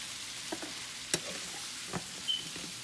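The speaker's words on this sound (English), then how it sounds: "now what I'm gonna do, I'm gonna add my broccoli" Broccoli dropped into a frying pan of sizzling shrimp, a steady hiss of frying with a few soft knocks and stirring clatters, close and alone without talk.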